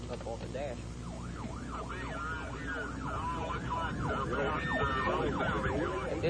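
An emergency siren wails in repeated rising and falling sweeps, loud and steady, with vehicle rumble beneath and faint voices, while chasing a tornado.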